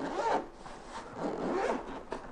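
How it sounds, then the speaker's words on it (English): A zipper runs around a hard travel case for a massage gun, several close, scratchy pulls opening it with short pauses between strokes, alone without talk. "It's got the zipper on it."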